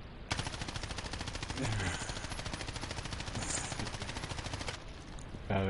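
Rapid automatic gunfire in the survival game Rust, a loud, continuous stream of closely spaced shots lasting several seconds before cutting off, with one more short burst at the end.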